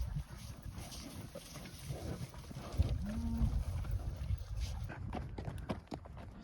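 Cattle in a hillside forest pasture give a low, drawn-out moo at a moderate distance against a quiet outdoor background, with faint rustling and footsteps around it.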